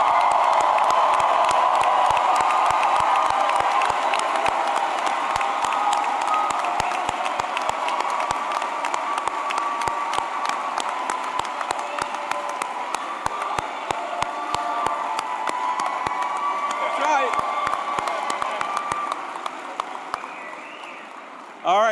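Sustained applause from a crowd at a college graduation ceremony, loud and dense with scattered cheers and whoops, holding steady before fading near the end.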